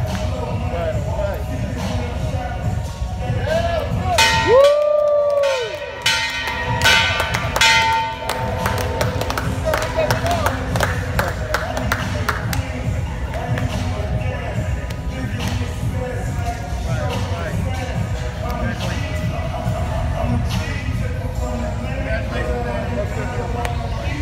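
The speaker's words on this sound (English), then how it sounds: "Gotta ring that freedom bell." A freedom bell at the Bayside Harley-Davidson dealership rings with a few bright, ringing strikes early on, while a crowd chatters and murmurs around it.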